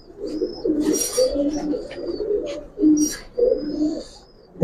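Pigeons, a pair of Giribaz and coloured breeds, coo in repeated low soft bursts, with a few thin chirps from other birds over a quiet indoor background and no one speaking.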